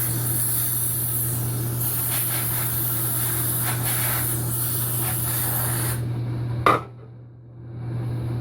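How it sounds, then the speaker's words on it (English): A steady, loud aerosol cleaner spray hisses continuously into an electric throttle body for several seconds, then stops abruptly with a brief clunk, leaving a low hum. "I'm gonna spray this out real quick down there"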